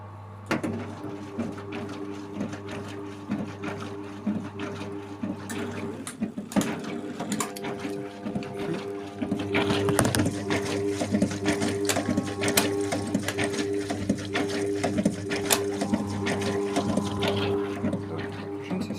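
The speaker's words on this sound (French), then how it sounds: "là j'ai bloqué pour que je puisse vous montrer l'essorage avec un peu d'eau dedans pour rincer la cuve" A Brandt washing machine running its spin cycle with a little water in the drum, a steady close whirring hum with a mechanical rattle and sloshing that grows louder partway through.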